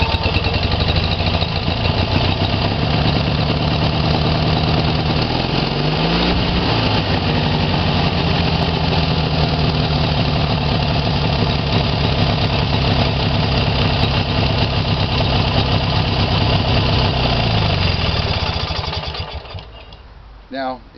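A Harley Bee motorized bicycle engine, running on very old gasoline, putters loudly and steadily close by, then cuts out near the end.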